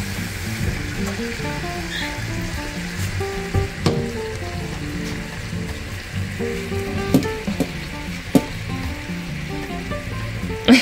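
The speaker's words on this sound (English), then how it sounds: "Oh, the meat's starting to sizzle." Soft continuous sizzling of meat in a pan, with occasional clinks and taps of utensils, moderately close, while faint background music plays.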